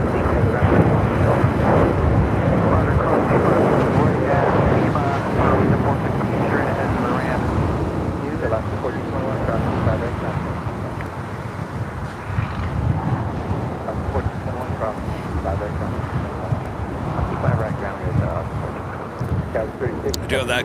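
Strong wind buffets the microphone outdoors beside the runways at LAX airport, a loud continuous rumbling roar with gusty swells throughout, while a voice talks over it at times.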